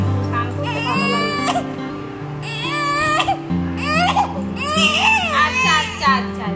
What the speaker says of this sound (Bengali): প্রতিদিন স্নান করানোর সময় এভাবেই কাঁদে